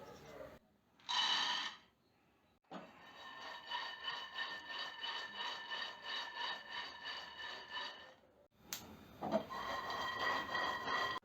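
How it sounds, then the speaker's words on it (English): Raw peanuts, about 100 grams, being roasted in a pan, with a steady dry rattling and scraping as they are stirred, in two long stretches broken by short pauses, close and fairly quiet with no talking. "I have taken 100 grams of raw peanut, so I'm going to roast it first"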